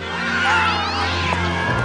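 A cat meows loudly and close up in a long, drawn-out wail with a rising and falling pitch.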